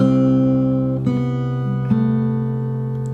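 Clean fingerstyle acoustic guitar notes ring and overlap, a few new picked notes entering over sustained tones, calm and close with no voices.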